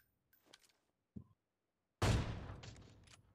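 Gunfire in an online shooter match with sniper rifles: a couple of small distant pops and a short click, then one loud close gunshot with a long decaying boom and rumble.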